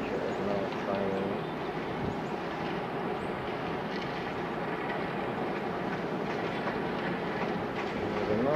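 Steady rumble and rattle of a train riding on rails, heard from inside a carriage as a continuous loud clatter, with voices talking faintly underneath.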